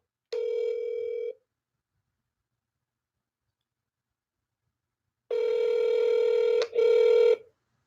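A phone line rings through toward voicemail: one short electronic ring tone, a long silence, then two longer tones close together, clean and steady with nothing else heard.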